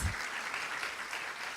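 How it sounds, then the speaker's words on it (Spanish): An audience claps at a church sermon, a brief even patter of many hands spread across the room that sounds moderately distant. "Ah, sí, sí tienen un aplauso."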